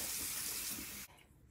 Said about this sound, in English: So I'm about to rinse it with lukewarm water.